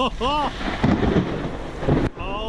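Thunder from a nearby lightning strike about a mile or two away in a storm with rain, a loud rumbling burst filling most of the clip, with a voice over it at the start and end.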